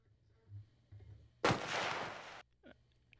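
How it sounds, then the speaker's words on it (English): Distant gunfire in a video game: a single broad burst of noise lasting about a second, loud against the quiet ambience around it, with faint low rumbles before it and a short soft sound after. "Was it a gunshot that I heard in the distance?"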